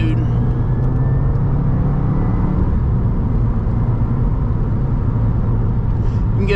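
A Subaru WRX driving on the road and passing another vehicle, with a steady loud engine drone and road noise throughout, heard from inside the car.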